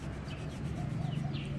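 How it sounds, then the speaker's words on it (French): A saw rasps back and forth into a ripe, woody Pterocarpus santalinoides fruit, a close, steady scraping rub with quick repeated strokes and no talk. "nous allons donc essayer carrément avec une scie de l'ouvrir"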